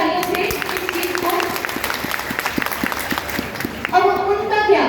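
Sustained clapping from a crowd fills the clip, loud and steady, with a voice speaking over it near the end.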